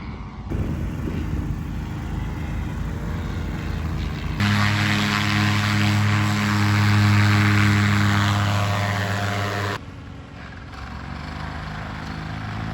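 Paramotor engines drone overhead at a paramotor fly-in in Florida, a steady propeller buzz that swells louder as one passes close for several seconds, then falls back to a more distant hum.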